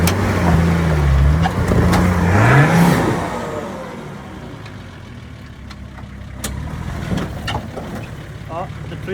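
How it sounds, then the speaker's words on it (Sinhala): Engine of a 4WD with a 6-inch lift straining and revving up a steep off-road hill, loud and close at first with rising and falling revs, then settling lower as voices talk over the motor. "6 inch ලිෆ්ට් කරපු මගේ යාළුවගේ GP එකේ ඉන්නේ. බලමු නගින හැටි."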